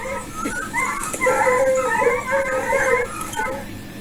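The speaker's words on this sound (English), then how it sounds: "The dogs react, pursuing the wild animal." Dogs whimpering and yipping in excited bursts while chasing a fox across open country, high-pitched cries overlapping continuously at moderate distance.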